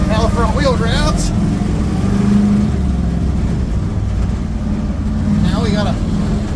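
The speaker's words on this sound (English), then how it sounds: "Now we're flinging mud off the front tires." A 1960s Dodge truck, in poor shape, driving through mud with a steady loud engine drone and churning wheels flinging mud off the front tires, with people talking over it at the start and end.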